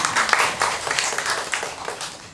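Audience applause at a Thai traditional medicine clinic certificate ceremony, a steady bright wash of many hands clapping throughout, fairly close and loud with no one speaking over it.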